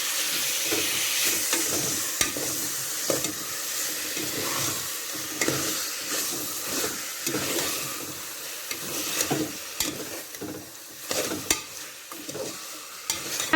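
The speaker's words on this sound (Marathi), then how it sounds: "आणि आता ह्यात आपला मॅरिनेट केलेला चिकन घालून घेऊया." Marinated chicken is stirred into fried masala inside a pressure cooker for chicken pulao, giving continuous sizzling and frying hiss broken by repeated scraping stir strokes, close and fairly loud, with no talking.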